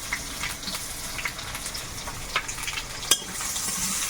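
Onions sizzle and fry in hot oil in a home kitchen pan, a steady soft crackling hiss with small popping spits throughout, fairly quiet and without talk.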